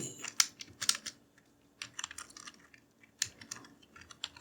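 Bursts of computer keyboard typing while entering calendar text in Microsoft Excel, a few quick clusters of clicks with pauses between them, faint and close.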